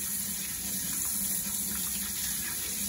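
Water runs from a sink tap while hands are rinsed underneath, a steady close splashing stream that continues evenly throughout without speech.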